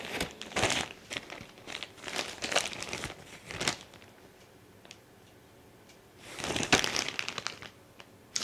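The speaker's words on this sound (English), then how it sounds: "this is like a Ziploc bag" A plastic Ziploc bag holding puzzle pieces crinkles in several bursts of sharp, close crackling, going quiet for a couple of seconds before a final loud flurry of crumpling.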